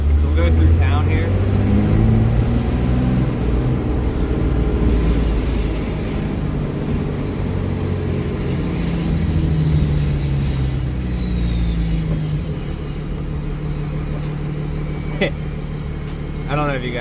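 A diesel hotshot truck with a 12-valve engine and VGT exhaust brake drones steadily and loudly while driving through town, a continuous low rumble with a faint whine rising and falling above it.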